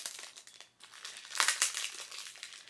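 Plastic packaging being opened by hand, a close, irregular series of crinkling and crackling bursts that swell louder midway, with no talk.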